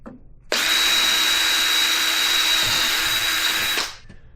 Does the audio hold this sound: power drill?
yes